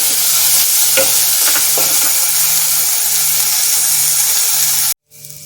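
Green chilies frying in hot oil and being stirred for a rajma curry, a loud dense sizzle with rhythmic scraping of a spoon, cutting off abruptly near the end.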